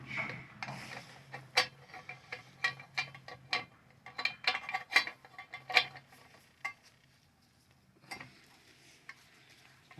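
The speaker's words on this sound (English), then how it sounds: "And once again, we're going to use the oxygen sensor wrench." Oxygen sensor wrench working on a motorcycle exhaust during a TBR Comp S 2-1 install, giving irregular sharp metallic clicks and scrapes in uneven bursts, close and moderately quiet, with no speech.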